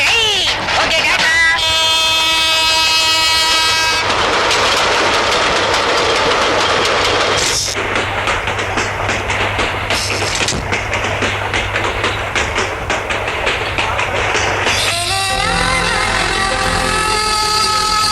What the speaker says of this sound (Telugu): తొందరగా బాబు, ట్రైన్ వెళ్ళిపోతుంది.